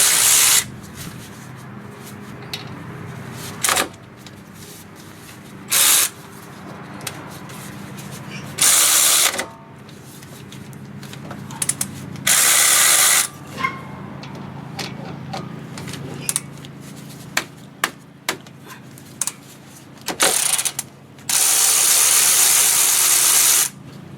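A ratchet works on the brake caliper of a 2015 Hyundai Sonata, loud clicking bursts of varying length recurring among quieter handling noises in a garage setting, with a voice speaking at times.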